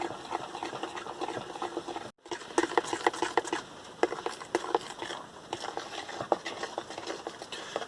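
Rain falling on a van, a dense, steady patter of drops drumming on the roof, continuous and close with a brief dropout partway through.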